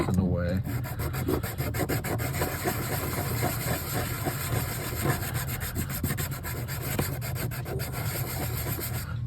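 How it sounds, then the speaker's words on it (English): A sanding block rubs across the circuit board traces of a Gottlieb System 80B pinball MPU board, a continuous, close, rapid back-and-forth scraping that goes on without pause and without speech. "Sometimes you just can't get down into the trace with the sanding block"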